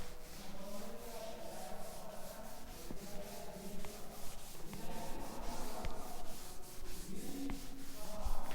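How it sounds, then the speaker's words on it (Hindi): An eraser rubbing writing off a classroom board makes a steady, continuous scrubbing with soft rhythmic strokes and a few faint clicks, close by and with no voices. "अभी ऊपर का रब कर देती हूँ मैं"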